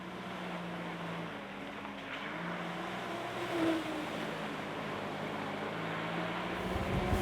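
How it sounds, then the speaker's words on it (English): A Mahindra ROXOR off-road vehicle drives a trail at Bundy Hill Off-Road Park in Jerome, Michigan, its engine droning steadily under broad wind and road rumble heard from inside the cab. "So here we are on the trail in this Mahindra ROXOR"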